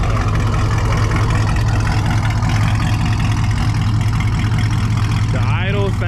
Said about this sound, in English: The idle sounds mean. It's grizzly, dude.